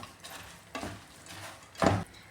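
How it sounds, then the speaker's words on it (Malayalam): Boondi being stirred into melted sugar syrup in a pan for boondi laddu, giving three soft scraping stirs, the last one loudest, with quiet pauses between. "ഇതെല്ലാം കൂടെ നന്നായിട്ടൊന്ന് മിക്സ് ചെയ്ത് കൊടുക്കാം."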